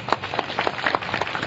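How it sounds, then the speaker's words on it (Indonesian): An audience at a regional gathering in Indonesia claps in a quick burst, with many sharp, uneven hand slaps layered close together for a second and a half. "Tepuk tangan dulu."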